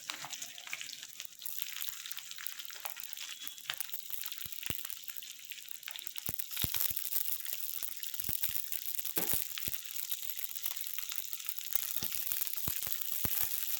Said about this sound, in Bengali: রসুনটা হালকা নাড়া হতেই আমি এই পেঁয়াজগুলো এরমভাবে কুটে রেখেছি ডাইসে, এইগুলো দিয়ে দেবো।